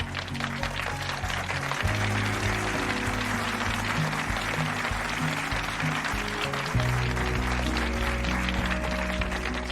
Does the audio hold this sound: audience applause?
yes